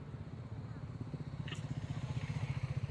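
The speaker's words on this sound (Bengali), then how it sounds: "এখনো গাড়ি ঢুকছে" Motorcycles and other vehicles roll into a bikers festival ground in Kolkata, a steady low engine throb pulsing close by throughout, with people talking in the background.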